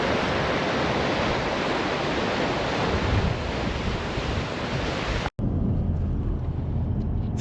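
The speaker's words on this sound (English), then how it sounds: "I can see waves crashing and stuff in the distance" Ocean waves crash continuously along the Yorke Peninsula coast, a dense roaring wash mixed with strong wind buffeting the microphone, briefly cutting out near the end before resuming.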